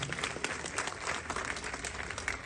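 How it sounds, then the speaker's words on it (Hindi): Steady applause from a large crowd, dense continuous clapping heard from a distance with no voices standing out. "जोरदार तालियां उनके लिए आप बजाएं"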